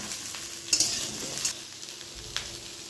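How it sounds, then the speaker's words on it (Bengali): Sliced ridge gourd frying in a pan while being stirred, giving a soft continuous sizzle punctuated by a few sharp spatula scrapes and clinks. "এবার সবগুলোকে একসঙ্গে আমি একটু নাড়াচাড়া করে ভেজে নেই।"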